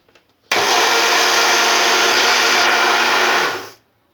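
A Vestel Mix Go blender whirs loudly and steadily as it mixes a banana milkshake, starting abruptly, holding an even motor drone for about three seconds, then cutting off.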